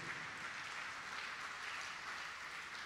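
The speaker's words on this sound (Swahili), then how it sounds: "Makofi hayo mnapiga" A church audience claps in a steady, even wash of applause that stays faint and distant for the whole stretch.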